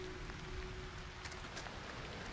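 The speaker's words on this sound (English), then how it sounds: "It's still raining." Steady rainfall in the video game Aloft, a dense continuous hiss of drops with a faint tonal hum underneath, with no talking.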